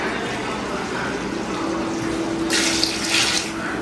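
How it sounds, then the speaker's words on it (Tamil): Water is poured from a tumbler into a pot of rice, a steady splashing stream with a brighter gush near the end, while a person talks over it. "அப்போ மொத்தம் நான் 6 டம்ளர் தண்ணி ஊற்றணும்."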